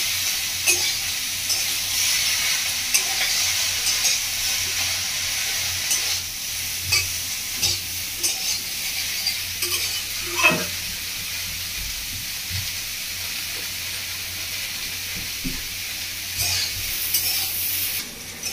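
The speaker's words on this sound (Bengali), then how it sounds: "আমরা ঝিঙেটা খুব ভালো করে মাছের সাথে কষিয়ে নিয়েছি" Ridge gourd and prawns stir-fried village style in a pan with onion, a continuous bright sizzle and hiss with intermittent spatula scrapes and soft knocks over a long stretch, no talking.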